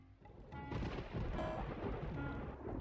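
Thunder rolls in a deep, sustained rumble that swells after a quiet start and stays loud and heavy throughout, with a hiss like rain beneath it.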